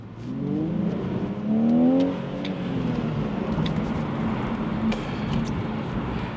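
A BMW Z4 3.0i roadster's engine revs hard and climbs in pitch as it accelerates away from a junction, loud and close, with a steady rushing road noise underneath.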